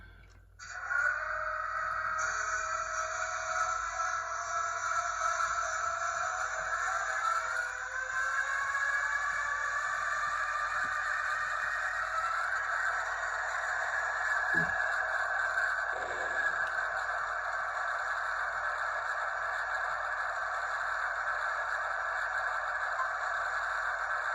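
A steady, loud mechanical hum with a whining tonal drone from a radio-controlled Wrenn Class 20 model locomotive's engine sound effect runs continuously, shifting slightly in pitch early on, with a couple of faint clicks.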